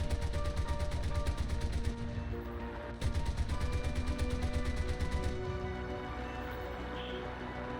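A German bomber's nose gunner fires a 20mm cannon in the combat flight game War Thunder: rapid, loud, evenly spaced bursts of automatic fire over a droning engine, broken by brief pauses.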